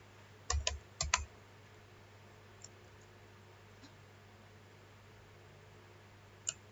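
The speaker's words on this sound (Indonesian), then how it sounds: "Saya coba ketik dulu." Computer keys clack in a short cluster of quick taps near the start, then a few isolated keystrokes follow over a quiet room hum.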